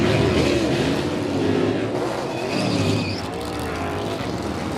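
NASCAR Cup Series race cars at the Daytona 500 roar loudly and continuously as they come onto pit road, engines droning steadily throughout with faint higher whines drifting past.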